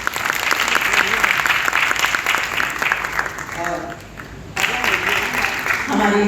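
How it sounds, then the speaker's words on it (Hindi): An audience at the Bhiwani Parivar Maitri Sangh Navratna award ceremony applauds warmly, with brisk crowd clapping that briefly dips, as a voice cuts in, before surging again. "मैं चाहूंगा कि एक बार बहुत प्यारों के लिए भी आपकी तालियां हो।"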